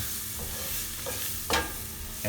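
Keema mince with garam masala fries and is stirred in a pan, giving a continuous close sizzle with scraping stirs and a sharper scrape near the end.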